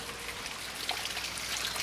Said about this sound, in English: Another second water fountain there.